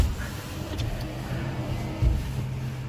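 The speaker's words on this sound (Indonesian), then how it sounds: "masih ada mobil yang melintas gitu" A car rolls past on a quiet night road on Jalan Batur in Dieng, its engine a low close hum with a brief louder swell near the end, heard alone.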